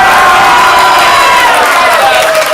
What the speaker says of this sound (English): Applaud now if it's Bonafide Dads